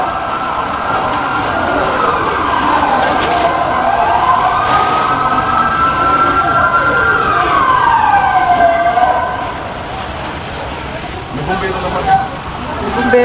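A fire engine siren wails loudly nearby at a fire on Galvan Street, Malate, Manila, rising and falling over a rumbling engine, with voices talking underneath before it fades.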